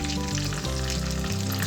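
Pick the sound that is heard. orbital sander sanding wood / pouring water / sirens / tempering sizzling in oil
tempering sizzling in oil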